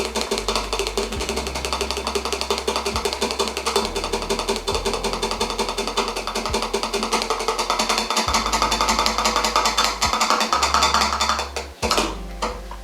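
A jar holding dried thyme for a herbal oxymel is shaken vigorously, giving a continuous close rattling and clattering that carries on steadily for several seconds before stopping near the end.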